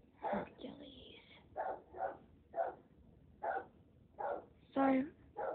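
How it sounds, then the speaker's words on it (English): Indoors, a dog barks again and again in short bursts that come at an uneven pace, some of them whiny or yelping, and a person murmurs quietly in the background. "Sorry about Hercules barking"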